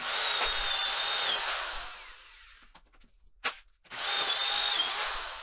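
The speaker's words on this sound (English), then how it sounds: "So I just got done drilling a bunch of new holes like this" A power drill whines loudly as it bores holes into wood for a home climbing wall, pauses briefly with a few knocks, then drills again.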